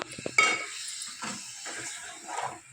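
Chicken curry is stirred in a pot with a metal utensil, making a few soft scrapes and clinks spaced out over the stretch, quiet and close.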